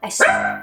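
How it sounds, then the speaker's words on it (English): A dog at home gives one loud, close bark that rises into a yelping, whiny tail, short and alone with no talk over it. "If you hear barking,"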